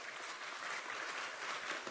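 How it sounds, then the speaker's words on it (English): Applause at an industry planning briefing, a steady dense patter of many hands clapping evenly throughout, fairly soft and distant with no voices over it. "I clap for myself."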